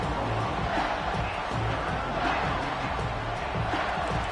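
Football stadium crowd at Auburn vs Alabama in a video game, a broad, continuous roar of cheering and yelling that stays steady and loud throughout.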